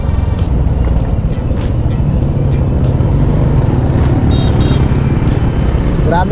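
Dense road traffic on a congested street, with a steady, loud, close engine rumble that never lets up. Vehicles idle and creep along together.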